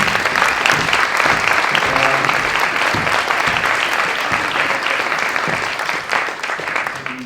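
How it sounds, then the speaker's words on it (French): Sustained applause from a large crowd, steady and dense throughout, with a few faint voices mixed into the clapping. "je vous demande de continuer vos applaudissements pour Agnès et Kelly."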